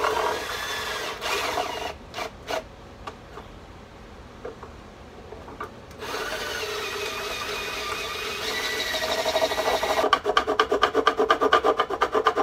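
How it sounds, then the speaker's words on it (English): Rough rasping of a file enlarging a drilled hole in wood for a violin lamp, scraping in repeated strokes that grow faster and louder toward the end. "Right now I'm filing the hole that I drilled out."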